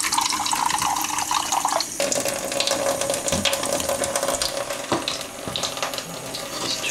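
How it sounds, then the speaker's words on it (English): Tap water runs steadily into a measuring cup at a kitchen sink, a continuous close splashing wash with a brief shift in tone partway through as the cup moves under the stream. "I'm going to rinse out my measuring cup here."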